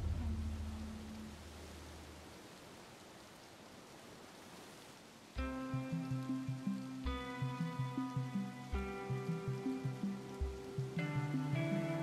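Soft steady rain hiss in the video game COLONIZE, a 17th-century New World settlement builder, quiet and diffuse, joined halfway through by a plucked melodic music cue.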